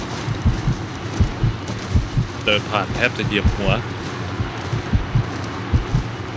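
Loud, steady heartbeat thumps in Call of Duty Modern Warfare 2019, pulsing roughly twice a second through the whole stretch with someone talking over it midway.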